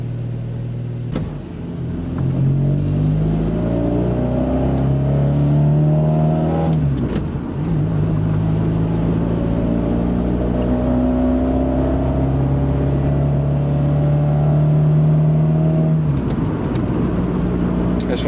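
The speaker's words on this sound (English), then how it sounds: "I just want to get the engine a little bit warm first before I do any pulls." A 1996 Honda Accord engine fitted with a cold air intake runs steadily through a cold start, a low idle humming close by with a brief lift in revs partway through, and faint voices under it.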